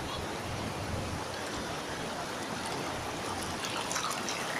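Ocean waves break on a beach in Jember, Indonesia, as a loud, continuous wash of surf that stays even and close throughout.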